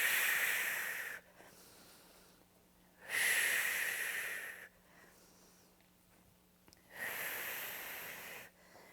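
Deep, forceful breaths during band row step-ups in an SI joint pain relief workout, three loud hissing exhales close to the microphone, evenly spaced, with quieter inhales between them.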